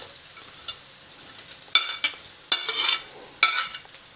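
Bean sprouts tumble into a hot frying pan for chicken chow mein, giving several loud sizzling bursts with stirring scrapes between them, close up and with no talk.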